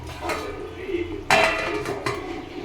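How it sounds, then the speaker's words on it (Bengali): A metal lid set down on a cooking pot, a sharp clanking clatter near the middle with a shorter knock after it, close up over a low kitchen background. "আবার ঢাকনা চাপা দিয়ে দেবো"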